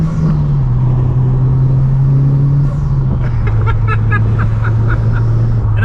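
A Mitsubishi Lancer Evo 9 MR engine drones steadily from inside the moving car with a window open, a low continuous rumble that drops slightly in pitch partway through, mixed with road and wind noise.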